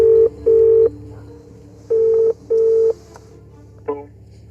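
Mobile phone keypad tones as a number is dialled at the entrance gates of a British mansion: several loud, clean beeps of varying length in an uneven sequence, with short gaps and a softer tone near the end.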